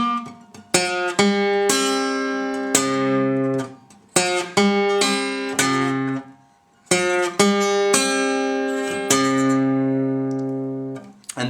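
A delta blues lick on acoustic guitar, a quick run of bright plucked notes in two phrases with brief gaps, ringing strings sustaining between attacks, close and loud with no talk.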